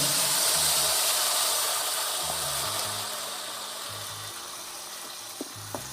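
Onion paste lands in hot oil for hill goat mutton curry, making a loud, broad frying sizzle that slowly eases off. A few clinks and stirring knocks sound through it, with no talk.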